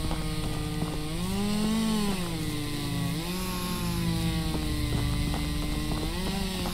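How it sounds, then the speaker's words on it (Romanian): A chainsaw drones in the video game Meat Saw, a continuous buzzing motor whose pitch wavers up and down as it revs, steady and moderately close, with no voices. "E cineva cu drujba în pădure aici"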